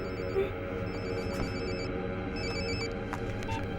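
A telephone rings in a French cartoon as Jérémy calls Ulrich, electronic ring bursts repeating in short pulses over a low background hum.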